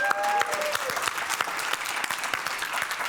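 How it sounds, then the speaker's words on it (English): A live conference audience applauds at Uromigos Live 2023. The clapping is steady and moderately distant, with a brief tonal sound near the start. "I just wanted to get some applause"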